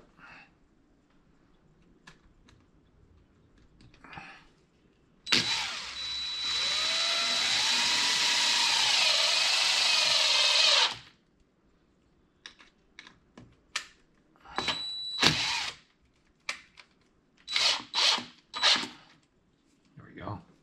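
A power drill whines steadily for about six seconds up close as it drives a screw through a figure's hand into a log, followed by a shorter burst and scattered handling clicks and bumps.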